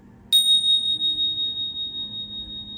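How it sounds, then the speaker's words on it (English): A single clear bell strike marks the start of a meditation at a devotional church service, its bright ring sustaining and slowly fading with a gentle pulsing shimmer. "as we allow the bell to invite us back to the present moment"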